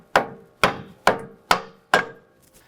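Five sharp, evenly spaced mallet strikes ring out close by as a front control arm bushing is tapped into place on a 2022-present Mk8 VW Golf R. Each knock is solid and woody and decays quickly.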